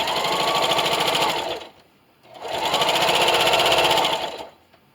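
Sewing machine stitching strips of a rag quilt made from old clothes, running in two steady bursts of rapid mechanical chatter with a short pause between, loud and close with no talk.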